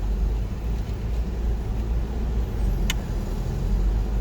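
A vehicle engine running at high idle just after starting, driven slowly through a ditch on an airsoft and paintball field, a loud steady low rumble with no talking and one brief sharp click near the end.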